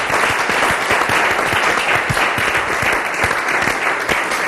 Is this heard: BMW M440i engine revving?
no